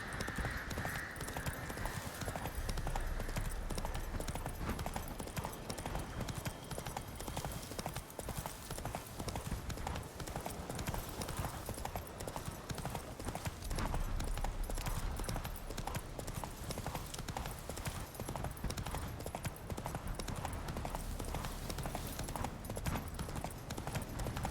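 Galloping hooves of a horse in The Witcher 3 on PS5 beat in a fast, steady clip-clop rhythm for the whole stretch, with an occasional faint snort and a brief voice near the start.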